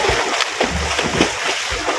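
Someone bathes in the flooded Ganges at a ghat in Patna, with choppy splashes rising over a steady rush of water, close and fairly loud, no voices.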